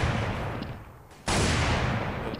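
A couple of sharp video game gunshot bursts ring out, loud and close, with a brief lull between them.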